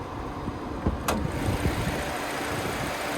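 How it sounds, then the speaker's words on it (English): A 2026 Cadillac CT5 Sport's 2.0-liter turbocharged four-cylinder engine idles steadily nearby with a low continuous hum, broken by a brief click partway through; no one speaks. "there's that 2-liter turbocharged 4-cylinder"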